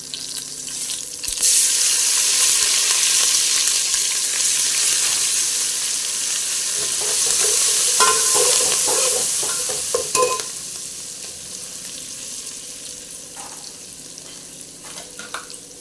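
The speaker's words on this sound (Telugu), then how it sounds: "ఇవి కూడా వేగినాక స్పూన్ పసుపు అవి కూడా వేగినాక కరివేపాకు రెమ్మలు" Turmeric and sprigs of curry leaves fry in hot oil for a chickpea offering, giving a steady, close sizzle with stirring that swells in the middle and eases toward the end, no voices.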